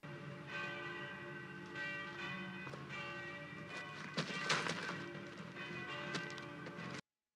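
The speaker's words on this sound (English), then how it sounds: "Bell's making so damn much noise, he can't hear what we're saying." A church bell rings steadily and loudly in a scene from the 1970 war film Kelly's Heroes, its tolling resonance filling the space with no voices, then cutting off abruptly.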